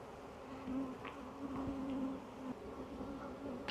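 Honey bees in an open hive full of young emerging bees give a dense, steady buzz that holds close and even throughout, with no voices.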